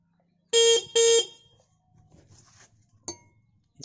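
Two quick, loud honks of a motorcycle horn, close by, after repair by tightening, followed by engine idle, some clinking, and a brief click.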